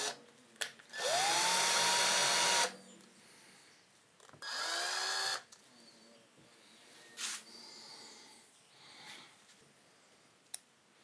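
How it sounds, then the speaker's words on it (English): A power drill drives screws into scrap wood in two long, loud whirring bursts with rising pitch, separated by quieter clicks and handling noises, close by. "As I'm drilling, I'm making sure that the screw is going straight through the wood,"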